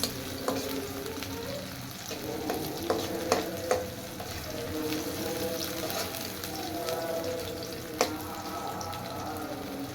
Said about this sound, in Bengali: কড়াইয়ে সরিষার তেল দিলাম, দিয়ে দিলাম গোটা শুকনা মরিচ